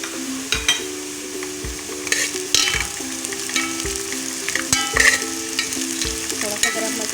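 Onions frying in a pan with garam masala for beef yakhni pulao, a steady close sizzle broken by repeated scraping stirs and light clinks of a spoon against the pan.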